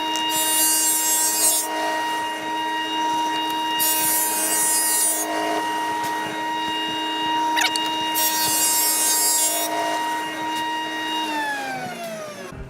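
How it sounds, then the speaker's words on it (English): A thickness planer hums steadily while a wooden board feeds through in three loud, roughly equal bursts of cutting noise, with the motor droning on between passes and no talking. "So notice I was planing in the direction of the grain."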